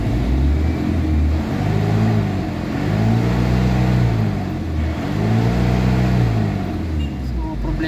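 An Isuzu Crosswind engine suffering from low power is revved repeatedly in a workshop diagnosis, rising and falling in loud, close surges over a steady idle.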